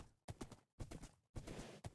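Hooves clip-clopping from a horse in the video game Minecraft, a few quick bursts of rhythmic clopping separated by short silent gaps, fairly close and alone.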